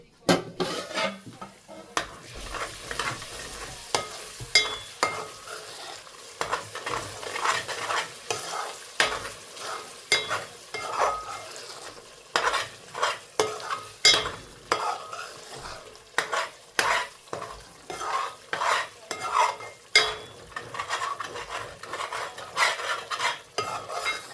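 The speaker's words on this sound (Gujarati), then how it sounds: "ચાલો હવે આપણે મસાલો ફેરવી નાખીએ એકવાર." Masala for a pomfret curry fries in a pan and is stirred again and again, with rhythmic scraping strokes and clinks of the spoon against the metal over a soft sizzle.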